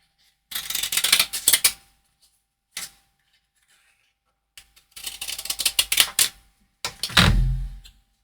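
Scissors snipping through a paper back piece for a handmade craft embellishment, in a few quick bursts of crisp cuts with short pauses between, close and fairly clear with no talking.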